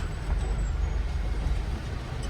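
Steady road traffic on a narrow village road near the India–Pakistan border fence in Ladakh, with a continuous low rumble of buses and trucks passing close by and a faint hiss like an air brake.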